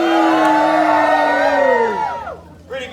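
An audience at a live performance erupts in loud whoops and cheers that fade after about two seconds, followed by brief voices.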